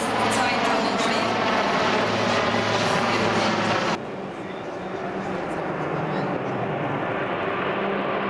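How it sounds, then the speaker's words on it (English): Propeller aircraft of the PC-7 display team fly overhead at an airshow, a loud, steady engine drone that drops to a thinner, more distant hum partway through, with no speech. "Das PC-7-Team eröffnet sein Programm mit einem trainierten 60 Grad Weg nach rechts."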